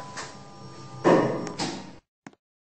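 Elevator doors slide shut in a Roblox lift, a smooth whoosh ending in a firm thud, followed by a short pause and a faint click.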